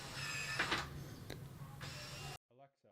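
A smart lock on a garage door locks with a whirring motorized buzz lasting a couple of seconds, followed by a brief spoken voice after it stops.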